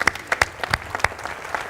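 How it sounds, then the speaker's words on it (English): An audience claps for children at a launch party, a short burst of fairly close, uneven hand claps with no voices over it. "Let's give the kids a round of applause for a great night."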